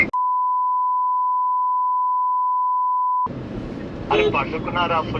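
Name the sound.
phone ringback tone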